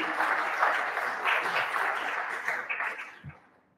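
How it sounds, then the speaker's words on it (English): Audience applause after a talk on a human energy white paper: a dense, steady wash of clapping from a sizeable crowd that holds for about three seconds and then tapers off quickly. "A round of applause for our team that has achieved this."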